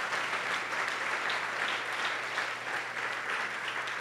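A church congregation applauds in a sustained wash of clapping that holds at an even level throughout, fairly soft and slightly distant.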